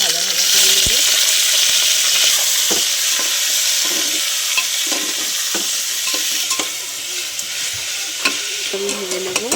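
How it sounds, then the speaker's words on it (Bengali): Chicken pieces fry in oil inside a pressure cooker while being stirred, giving a steady close sizzle with scraping stirs and small metallic clinks throughout. "আমি এখানে কুকারে চিকেনটা দিয়ে দিলাম। চিকেনটা একটু ভাজা ভাজা করে নেব।"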